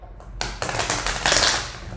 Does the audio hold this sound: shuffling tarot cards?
yes